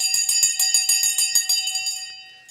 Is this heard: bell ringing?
yes